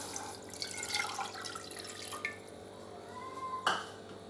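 One cup of water runs into a cooking pan for sweet rava upma, splashing and trickling in bursts with a few sharp clinks, no talking over it.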